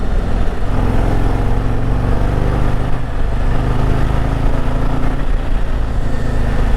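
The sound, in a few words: 2025 Harley-Davidson Street Glide Ultra motorcycle engine riding in sport mode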